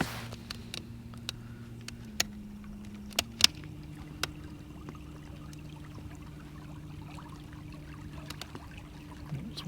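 Small outboard motor on a boat cruising a river at a Norfolk Broads marina boat yard in winter, a steady low drone running throughout with a few sharp clicks and knocks over it, no talking.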